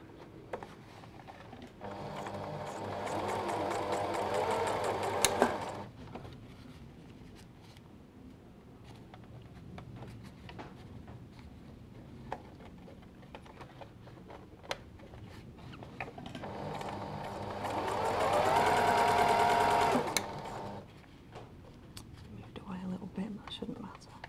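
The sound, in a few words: sewing machine stitching a concealed zip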